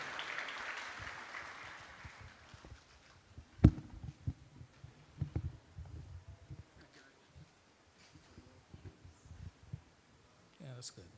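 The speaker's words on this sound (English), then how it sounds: "join me in welcoming Bhakti Yoga Prabhu with a big round of applause" An audience at a Sunday Hare Krishna program claps for a guest speaker: a dense, broadband wash of clapping for the first few seconds, then it thins out and fades beneath scattered voices and movement.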